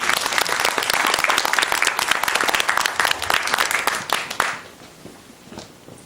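An audience at a book launch event breaks into dense, sustained clapping for several seconds, then it thins out quickly and fades into scattered claps and room murmur.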